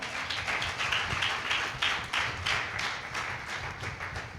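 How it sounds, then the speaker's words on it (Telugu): A church congregation at a field training programme claps loudly, a dense run of hand claps with sharp bursts repeating evenly over several seconds, close and with no talk. "క్లాప్స్ కొట్టి గట్టిగా."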